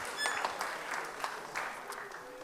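Applause from a church gathering, a steady wash of many hands clapping at moderate level, fairly distant and continuous throughout with no voices over it.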